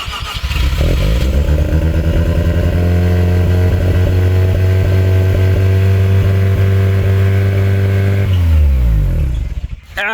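A small Mazda RX-7 FC rotary engine rises quickly to a steady, buzzy high idle, running on premix, and holds there loudly for several seconds, then winds down and cuts off.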